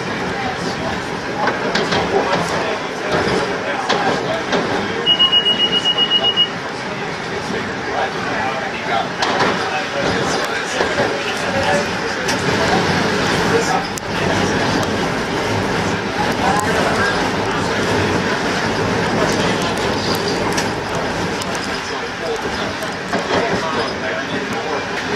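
A Metro-North train rumbles steadily along the rails crossing the Harlem River, with a continuous clatter and hum, a brief high tone near the middle, and voices murmuring underneath.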